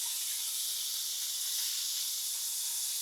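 Beef pieces searing in a hot pan give a steady, loud, high-pitched sizzle that holds evenly throughout with no pauses and no voices.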